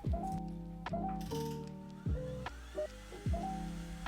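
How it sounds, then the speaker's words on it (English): An electric mixer whisks egg whites on high speed for a meringue in a flourless chocolate olive oil cake. Its motor whines loudly in several short bursts, each dropping in pitch as it stops and restarts. "Continue to whisk on high speed until the volume has doubled"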